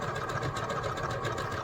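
Sewing machine stitching a maple leaf garden flag, a fast steady mechanical whir with rapid even needle pulses, close and continuous without talk.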